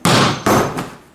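A hammer strikes the glass of a Toyota car window during a crash test. Two loud, close impacts sound about half a second apart, each followed by a short ringing decay.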